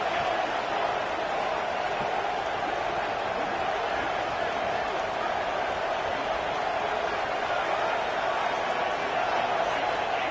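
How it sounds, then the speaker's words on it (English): Home crowd in a college football video game, Ole Miss against UNC, roars on a fourth down as a dense, steady wash of cheering noise that runs the whole time. "Home crowd trying to make a difference on 4th down"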